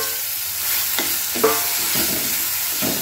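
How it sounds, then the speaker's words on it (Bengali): Green pea paste for koraishutir kochuri stirred in hot oil in a wok, with a continuous close sizzle and a few scraping stirs. "এবার আমি এইটাকে এই কড়াইশুঁটির কাইটাকে একটু নেড়ে চেড়ে নেব"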